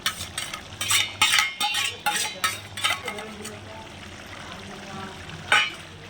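Sundakkai seeds frying in oil in a pan, with repeated bursts of stirring and scraping over a faint sizzle, and brief pauses between strokes.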